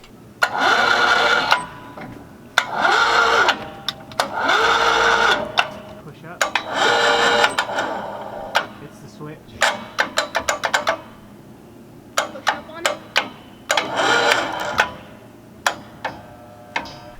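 A crane motor runs in repeated short bursts of a few seconds each while its safety micro switch is tested, a close mechanical whir broken by sharp clicks and ticks between runs.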